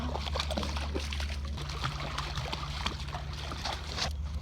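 A dog named Fred swims and splashes in water at a park, giving a steady close sloshing and churning with small splatters throughout and no clear voices.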